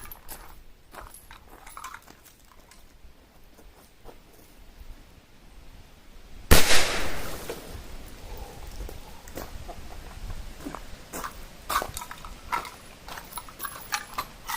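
A Stevens Model 94 shotgun fires once at close range into a milk jug: one sudden, loud blast about halfway through that rings out and decays into outdoor ambience with faint scattered ticks.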